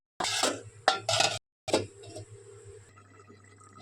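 A metal lid goes onto a cooking pot of soybean curry, preceded by a few sharp clanks and clatters. A final clink is followed by a faint ringing hum and quiet background noise.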